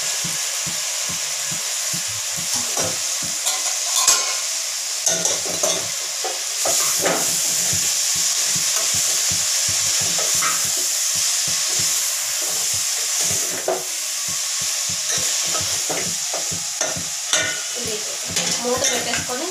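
Washed amaranth leaves frying in a hot pan, a loud continuous sizzle broken by repeated scraping stirs of the spatula, close and without talk.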